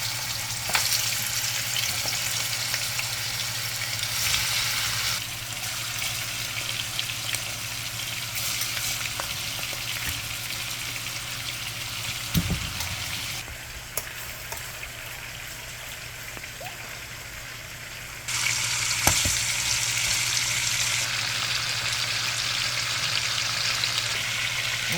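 Turkey wings frying in hot oil on a stovetop, a continuous loud sizzle with crackling spatter, interrupted by a stirring clatter midway and a brief dip before the hiss surges back.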